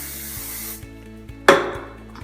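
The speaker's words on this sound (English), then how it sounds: "Using hairspray," Aerosol hairspray misted onto hair while a high tight ponytail is brushed upward, one sharp hissing spray burst standing out midway over quiet faint brushing and handling sounds.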